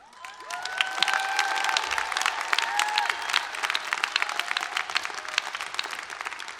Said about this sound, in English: If you are a fearless science terp, please give a big cheer